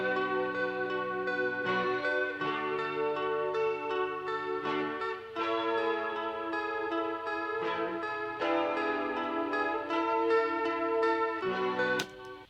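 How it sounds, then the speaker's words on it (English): Sustained guitar chords ring out in a slow progression, with changes roughly every couple of seconds. The strumming is clear and upfront with no voices. "I think the next thing I came up with were these guitar chords"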